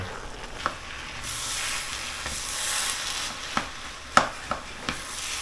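Shrimp fried rice stir-fries in a hot pan, giving a steady, close sizzle with a few sharp clinks and scrapes of the spatula against the pan. No one speaks.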